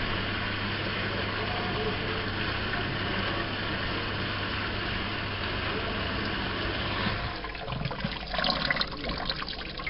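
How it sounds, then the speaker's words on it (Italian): A commercial Match glass washer, its water already heated, starts its wash cycle with a steady rushing churn, then shifts partway through to a louder, splashier spray as the rotating arms begin working. "La macchina inizia a lavare."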